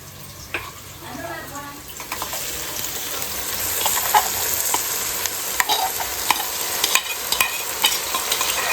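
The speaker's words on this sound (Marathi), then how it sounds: "ते आपण त्याच्यामध्ये परततोय तेलामध्ये. ज्या तेलामध्ये आपण कांदा म्हणजे बरिस्ता बनवला होता. आता जे आपण टाकतोय टोमॅटो." Sliced onions and tomato sautéing in oil for prawn biryani, a loud continuous sizzle with frequent stirring scrapes and clacks, and a brief voice early on.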